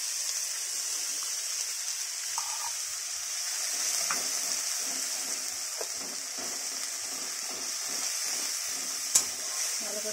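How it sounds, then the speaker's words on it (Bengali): A masala of ginger, garlic, onion, cumin and tomato paste sizzles and fries in a pan with a steady, bright hiss. A few soft stirring clicks and a single sharp clink break the hiss. "ভালো করে কষিয়ে নেব মশলাটা।"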